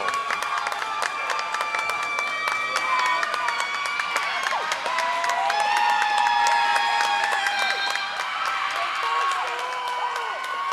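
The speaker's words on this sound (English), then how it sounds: "Crowd getting into a cheering contest." Spectators in a gym at a high school varsity volleyball match between Foxboro and Attleboro cheer and shout in a sustained, noisy crowd roar with overlapping voices and whistles ringing over it.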